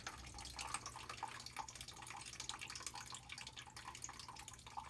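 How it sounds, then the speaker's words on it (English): Water trickles and drips steadily out of a short copper pipe outside a house as a gate valve is opened to drain an in-ground sprinkler line, a faint continuous splashing with no talk. "This way I'm assuring that everything in that copper pipe, that short bit that's of copper pipe that is outside of the house, will be drained now of water."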